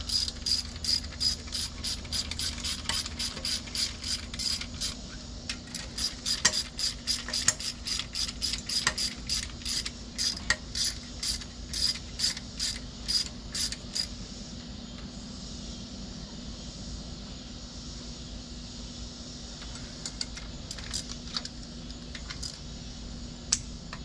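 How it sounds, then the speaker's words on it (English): A ratchet clicks in quick bursts while turning over a 360 Magnum engine by hand during a cam upgrade, the crisp metallic ticks near and clear, then fading to a quiet hum. "Roll it over one more time before I put in the intermediate shaft."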